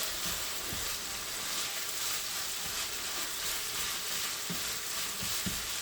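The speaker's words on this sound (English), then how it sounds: "while this continues to cook" Keema cooking in a pan, a steady close sizzle and crackle of frying meat with occasional soft stirring clicks, no voices.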